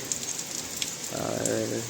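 Steady rain and gusting wind from Cyclone Dana in Balasore hiss and patter continuously, swelling a little partway through, while a person talks.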